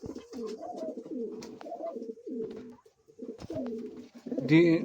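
A pair of king pigeons coo close by, repeating soft, throaty rolling calls in steady bursts with brief pauses, growing louder and busier near the end.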